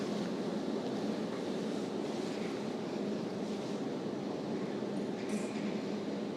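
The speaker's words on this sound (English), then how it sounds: "You can see the train just arrived" A steady, rumbling train roar fills the station with broadband noise as the train arrives, continuous and close, with no voices.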